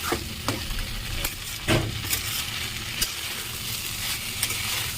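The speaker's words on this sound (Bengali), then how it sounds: "সবিনটা কষাতে দিয়েছিলাম" Soybean chunks and potato sautéing in a covered pan, a continuous sizzle broken by several sharp scrapes and knocks of a spatula stirring them.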